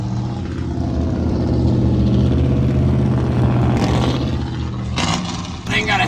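A loud Cummins diesel drag truck engine rumbles nearby with a deep, steady drone, swelling slightly before sharper bursts near the end, while people talk nearby.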